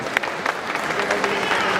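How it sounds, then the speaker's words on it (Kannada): Audience applause at a Kannada film song release event, a burst of clapping from a crowd that builds and holds steady, with a voice talking over it. "ಜೋರ್ ಚಪ್ಪಾಳೆ ಹೊಡಿಲೇಬೇಕು ನಾವು"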